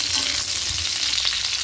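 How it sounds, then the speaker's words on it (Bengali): Potatoes fry in a hot pan with a dense, continuous sizzle and crackle that holds steady and close the whole time, without any voices. "আলুগুলো হালকা করে ভাজা হয়ে গেছে।"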